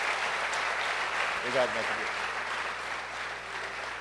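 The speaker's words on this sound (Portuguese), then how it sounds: "Vocês podem aplaudir o Senhor?" A church congregation at a couples' retreat applauds, moderately loud and steady, while someone briefly speaks over the clapping.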